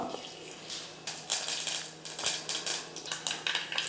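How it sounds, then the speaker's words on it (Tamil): Mustard seeds spluttering in hot oil in a pan for eggplant tamarind kuzhambu, a quick flurry of sharp crackling pops coming in bursts, close by and fairly quiet, with no speech. "கடுகு நல்லா பொரிஞ்சிடுச்சு"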